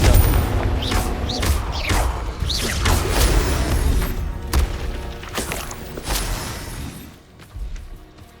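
Explosive blasts from the Confringo spell in Hogwarts Legacy boom repeatedly, with several sharp bursts over a rumbling low mix of thuds and crashes, and a voice shouting between impacts.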